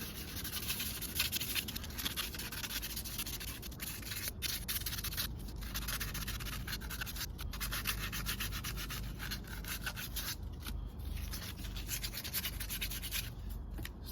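Continuous close scratchy rubbing of sandpaper being worked back and forth over a car rim to scuff its surface, steady, fairly quiet strokes with no talking.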